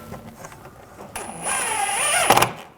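Screws are snugged down with a power driver on the front bumper cover of a 2006-2009 Audi S4, a brief rising whir of about a second with a high tone, near and fairly quiet.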